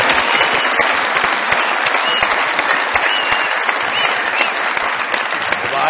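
A studio audience on a TV comedy show breaks into loud, continuous applause welcoming a guest, a thick, even wall of clapping with no pauses.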